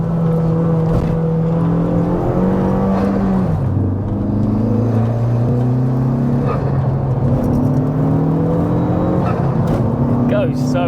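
A 385bhp FWD Honda Civic Type R FK2 build pulls hard under throttle, its engine note climbing, dropping at a gear change, then climbing again, loud and close from inside the car. Some talk comes through faintly.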